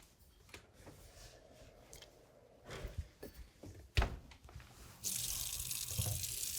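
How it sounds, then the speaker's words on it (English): A kitchen tap runs while hands are washed under it, starting with soft clatter and intermittent splashes, then turning into a loud, steady gush of running water for the last stretch. "and I'm gonna also wash my hands."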